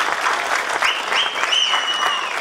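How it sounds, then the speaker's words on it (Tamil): Audience applause at a Tamil film event, a brief, dense burst of clapping that holds steady from start to finish. "ஒரு கைத்தட்டுங்க அவருக்கு ப்ளீஸ்"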